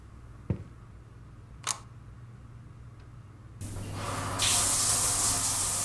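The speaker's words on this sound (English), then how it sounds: "Why is my shower on?" A shower suddenly starts running in a horror video game, a steady rushing hiss of water that swells louder and stays constant, following a few isolated clicks in an otherwise quiet room.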